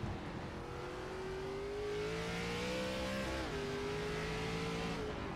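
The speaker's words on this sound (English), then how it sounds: "You just absolutely hear him playing with that throttle." ARCA race car engine at Sonoma Raceway in a racing video game, a loud steady drone that climbs and dips as the throttle is worked, with one brief lift before pitch rises again, heard alone.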